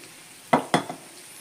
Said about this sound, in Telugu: దీనికి పోపు పెట్టుకుందాం.